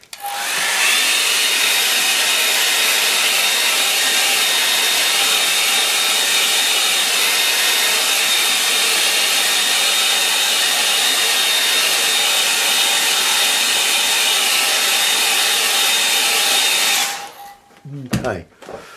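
A hair dryer blows steadily and loudly over a painting in progress for about seventeen seconds, then cuts off, leaving a few brief handling knocks.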